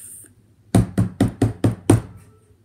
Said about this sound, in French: un coup retentit sur la porte de Naf Naf